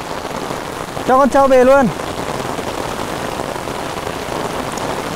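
Heavy rain pours steadily through a flood around an old rural house, a constant wash under brief shouted speech about bringing a buffalo home.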